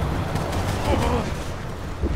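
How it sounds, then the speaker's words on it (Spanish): Explosions in the Resident Evil 6 video game, heard as a rumbling blast with low booming bursts that stay fairly loud and sustained over background game sounds. "Explosión."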